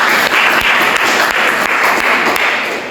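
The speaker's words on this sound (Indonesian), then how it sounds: "Oke, terima kasih, tepuk tangan dong buat" Loud, dense applause from participants in an Indonesian training session, many hands clapping at once in a steady, sustained patter that fades slightly at the end.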